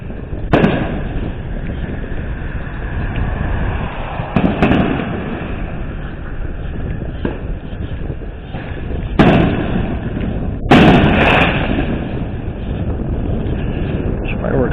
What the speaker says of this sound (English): There's fireworks going off on the other side of the street